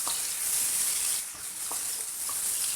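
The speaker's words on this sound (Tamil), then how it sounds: "நல்லா வதக்கிக்கோங்க." Chopped onions and tomatoes sautéing in a pan for a chicken semi-gravy: a continuous, close, hissing sizzle with a few faint clicks of a stirring utensil.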